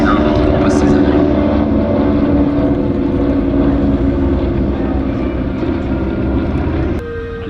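Douglas DC-3 and Beechcraft 18 piston-engine aircraft fly past at an air show, their many cylinders producing a loud, continuous throbbing drone that fades slightly before cutting off near the end.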